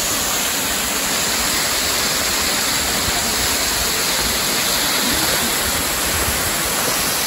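Steady roaring rush of Giessbach Falls near Lake Brienz, Switzerland, a dense continuous wash of falling water with no voices.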